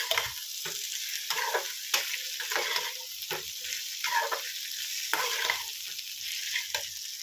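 Spoon stirring okra (bhindi) sabzi in a hot frying pan, close and loud, with repeated scraping strokes over a steady oily sizzle, no talking.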